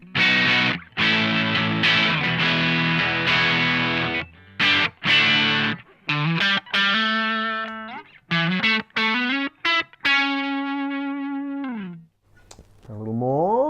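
An electric guitar played through a Boss OD3 overdrive pedal gives crunchy, distorted chords and sustained notes, with choppy palm-muted stops and ringing held tones, loud and alone.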